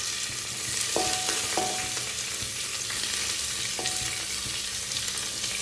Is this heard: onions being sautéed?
yes